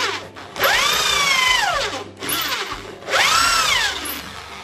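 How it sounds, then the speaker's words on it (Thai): A power drill with a countersink-style bit whirs loudly in two bursts, its pitch rising as it spins up and dropping as it bores, with a brief pause between runs. "ดูวิธีเจาะมันว่าไอ้สว่านแบบนี้มันทำอะไรได้เนี่ยชั้นแรกมันจะเจาะแบบเหมือนสว่านทั่วไป"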